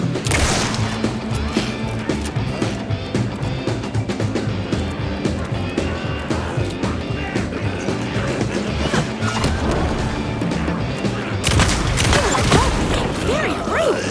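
Gunshots go off in the video game Alan Wake, sharp impacts scattered over a busy, continuous game soundscape, with a voice talking in places.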